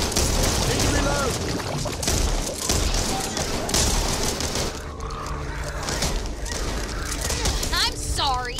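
Assault rifle fire in the zombie shooter Back 4 Blood: dense, loud, continuous bursts with booms and impacts, while game voices and a player talk over the shooting.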